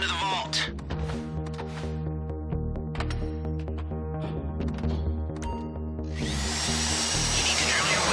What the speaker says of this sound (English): You need to drill your way through multiple discs in order to break the vault door lock.